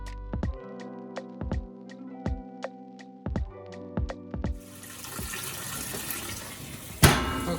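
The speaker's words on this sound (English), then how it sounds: "So now I'm just doing a test rinse." An American Whirlpool 3RLSQ8033SWD washing machine, newly installed in a kitchen, runs a test rinse: a series of sharp knocks and clunks gives way to a steady rush of filling water, with one louder thump near the end.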